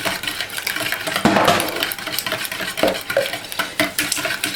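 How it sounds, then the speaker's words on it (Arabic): Spoon stirring pancake batter made with eggs and a pinch of salt, with repeated scraping and clinking against the bowl in an uneven rhythm, close and fairly loud, with no talking. "كتبدا تحرك"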